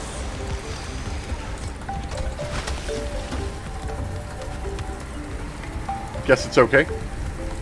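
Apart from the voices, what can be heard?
hail storm in video game Subnautica: Below Zero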